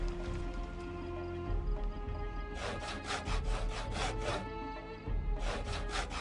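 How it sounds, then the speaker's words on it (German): Wood is sawn by hand in the survival video game Project Zomboid, with rhythmic back-and-forth rasping strokes that come in two close bursts after a quieter start. "So, zur Sägen."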